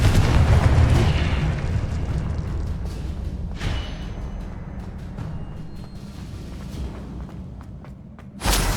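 Confringo fire spell blast in the Hogwarts Legacy video game: a loud, rumbling explosion at the start that decays into a long low roar, a sharper burst midway and another thump at the very end.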